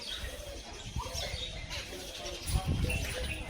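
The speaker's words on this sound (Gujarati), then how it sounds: "હા તો કેવા ચકલીનો અવાજ આવે" Sparrows chirp and birds coo around a hilltop temple with big trees and water trickling from rocks, a steady busy chatter of small birds under soft ambient noise, with a voice faintly in the background.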